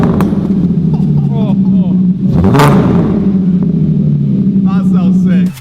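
A VW Caddy R engine idles with a deep, steady rumble through a newly welded exhaust, then revs sharply once and settles back to idle.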